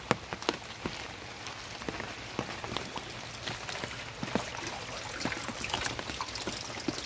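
Water falling into a rainwater harvesting pit fitted with a central pipe and mesh filter, a soft steady patter and trickle with scattered drips, fairly faint and continuous with no talk.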